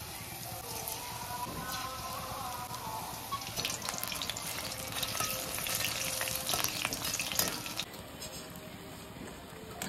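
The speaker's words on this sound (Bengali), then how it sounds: "এবার একে একে ভেজে নেব, তাহলে তাড়াতাড়ি হবে।" Capsicum pieces fry in hot oil one after another, giving a continuous close sizzle dotted with crackles and pops, with some light stirring and handling noises.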